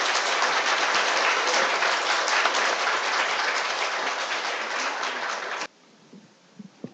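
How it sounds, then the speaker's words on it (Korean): An audience at a Marxism 2019 conference applauds a speaker onto the stage, a steady full-bodied clapping that cuts off abruptly near the end, leaving a few faint thumps. "큰 박수 부탁드리겠습니다."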